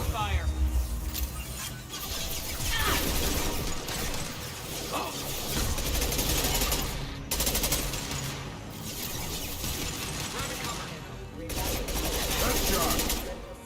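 Rapid gunfire rattles through a Mass Effect 2 Legendary Edition firefight, dense mechanical bursts of automatic shooting continuing almost without pause, loud and close, with brief lulls and voices heard over the fighting.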